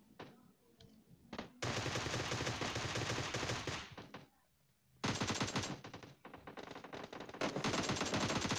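Bursts of rapid automatic gunfire from the PUBG battle royale game, two long sustained volleys separated by brief pauses, loud and close.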